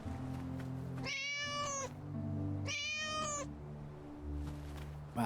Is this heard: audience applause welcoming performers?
no